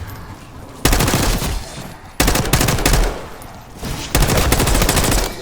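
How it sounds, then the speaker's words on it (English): Gunfire rings out in the video game Call of Duty Black Ops 6 in three loud, dense bursts of rapid automatic shots, each lasting more than a second and separated by short gaps. "You hearing gunfire? Yeah. Sounds like it's coming from one of the floors."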